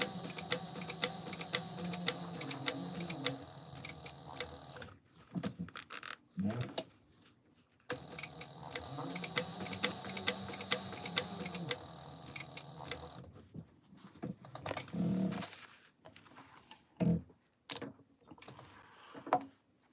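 A home sewing machine runs top stitching on a Mini Scout bag by Evergreen Threads, in two sustained whirring bursts of rapid stitching separated by brief pauses and a few clicks, with a voice talking in between.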